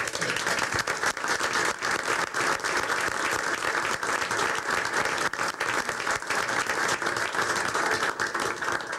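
Sustained applause from a school board meeting audience honouring the school swimmers, a dense continuous patter of many hands at steady loudness throughout, with no talk over it.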